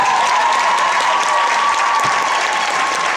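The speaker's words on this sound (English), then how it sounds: "Give that a round of applause." Audience applause at a team event in Brooklyn, loud, dense and sustained clapping from a crowd that holds steady throughout without fading.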